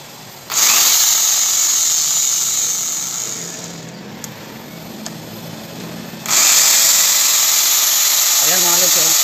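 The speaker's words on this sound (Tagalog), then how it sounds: "Testing natin tong drill." An electric drill powered by a small inverter power station spins up loudly for about three seconds, winds down, and starts a second close, high whirring run after a short pause.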